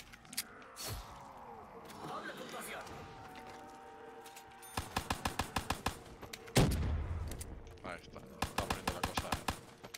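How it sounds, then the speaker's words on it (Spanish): Gunfire in a first-person shooter video game: rapid bursts of automatic shots rattle out in quick rhythmic volleys, loud and close, separated by movement noise, with someone talking in between. "Vamos a empezar a pegar tiros aquí como un poseso."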